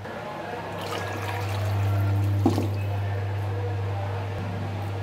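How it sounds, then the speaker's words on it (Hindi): Water poured into a pot of chicken for chicken corn soup, a steady close pour over a constant low hum, swelling briefly midway with a small splash, and no talking. "अब इसके अंदर हम पानी डालेंगे।"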